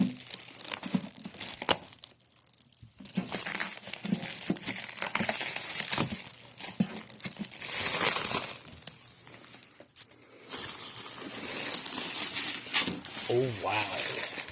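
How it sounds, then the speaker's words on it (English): Crinkling and tearing of a plastic wrapper being cut off a new VCR/DVD player, sustained rustling and crackling bursts up close, with a voice briefly speaking near the end. "Okay, I'm gonna cut the wrapper off."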